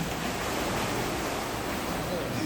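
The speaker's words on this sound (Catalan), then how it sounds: "Aquí tenim una petita cova, i entre les onades, preciosa." Ocean waves wash around a small sea cave on the rocky coast of El Hierro, a continuous rushing surf hiss at moderate loudness with no distinct breaks or other sounds standing out.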